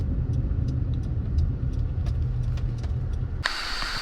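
A car idles and rolls slowly as it pulls over on a road in Ocho Rios, Jamaica, with a steady low engine rumble close by and light clicks, before a sudden burst of hiss near the end.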